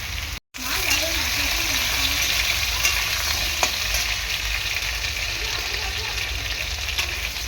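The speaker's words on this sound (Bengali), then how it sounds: "আলুটা মিনিট 2 মতো ভেজে নেবো তেলে।" Potatoes fry in hot oil for a fish-head and tender pumpkin curry, a loud, continuous sizzle with stirring scrapes, and a voice speaks faintly underneath.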